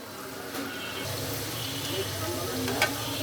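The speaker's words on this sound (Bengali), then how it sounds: "এগুলো মিডিয়াম হিটে ভেজে নিতে হবে আমি পিঠাগুলো ব্রাউন কালার করে ভেজে নিব" Coconut lobongo lotika pitha fry in oil over medium heat, giving a steady, close sizzle with light bubbling and a few soft clinks throughout.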